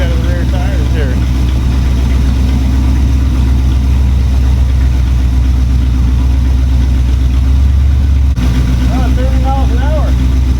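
A 1961 Cadillac DeVille, an abandoned project car, runs in gear with a steady low engine rumble and idle-like drone throughout, loud and close. Voices talk intermittently over it.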